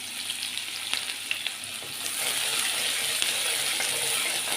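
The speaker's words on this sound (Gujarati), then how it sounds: "ડુંગળીને પણ થોડીક બ્રાઉન થવા દેવાની" Chopped onion browning in oil with mustard seeds, cumin, asafoetida and garlic for khichdi: a close, steady sizzle with scattered pops and stirring clinks, swelling louder partway through.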